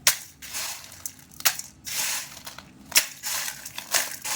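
Crisp fried raw plantain pieces for a homemade mixture snack crunch and crackle close up in repeated bursts, with sharp snaps between stretches of dry rustling.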